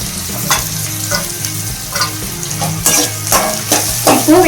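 Chopped onion, garlic and ginger sizzle in hot oil in a pan for spicy brinjal, with a steady crackling fry broken by scraping stirs of a spoon, close and lively.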